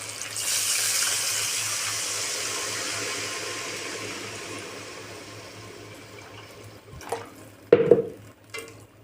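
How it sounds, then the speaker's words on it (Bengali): Water poured into a hot frying pan of fried vegetables gives a loud rushing hiss that slowly fades over several seconds. A few clattering knocks follow near the end, and no one speaks. "ভাজা হয়ে গেছে, এখন জল দিয়ে দেব।"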